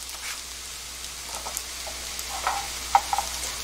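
Chive and glass noodle japchae tossed with sesame oil in a pan gives a faint, low sizzle broken by light scattered clicks and scrapes of stirring, quiet and close.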